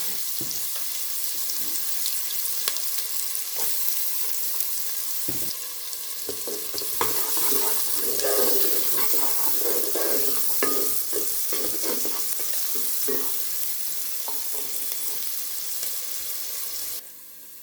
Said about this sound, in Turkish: Soğanlarımızı içine koyuyoruz şöyle güzelce. Kavrulabilsin.